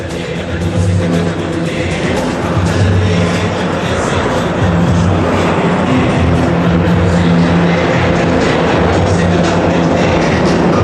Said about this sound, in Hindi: जिन विमानों को आप आसमान में उड़ान भरता देख रहे हैं वे हैं हॉक मार्क 132